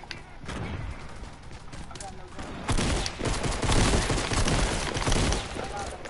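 Loud sustained video game gunfire and explosions build after about 2.7 s, dense and continuous over background game noise, with a voice talking at times.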